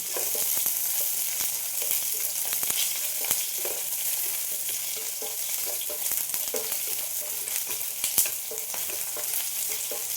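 Five or six small red shallots sauté in a pan for a Saravana Bhavan style chutney, producing a continuous close sizzle with frequent light ticks and scrapes from stirring.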